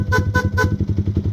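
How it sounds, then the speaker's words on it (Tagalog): A Yamaha Sniper 155 motorcycle's loud aftermarket horn sounds in a rapid pulsing pattern, several quick honks close by followed by a steady throbbing buzz. "loud horn"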